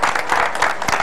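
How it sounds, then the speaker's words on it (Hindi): Audience applause at a political rally for an AAP candidate: dense, steady clapping from a crowd, loud and continuous throughout, with no talking over it. "तो प्लीज तालियां बजाइए"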